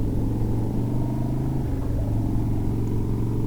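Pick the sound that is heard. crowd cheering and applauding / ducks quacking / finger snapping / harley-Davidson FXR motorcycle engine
harley-Davidson FXR motorcycle engine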